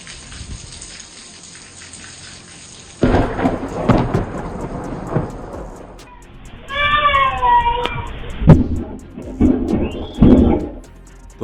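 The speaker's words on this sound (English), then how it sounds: "Thunder exploded in the sky over Texas." Thunder over Texas breaks suddenly into a loud, rumbling crash and rolls on in heavy waves, with a cat meowing close by during the storm.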